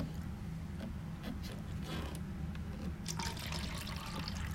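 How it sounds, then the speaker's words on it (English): Water running from a tap into a glass or sink, a steady close trickle and splash, fairly quiet and alone with no voices. "Sorry, I had to get myself some water."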